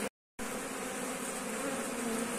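Honeybees hum at an apiary hive entrance, a steady, dense buzz of many insects close by; a brief silent dropout comes at the start, then the drone continues unbroken.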